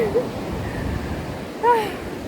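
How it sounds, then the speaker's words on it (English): Ocean waves on a Los Angeles shore give a steady, close wash of surf noise with wind, and a brief high chirp rises over it near the end. "I don't even know if you can hear me because of the ocean behind me."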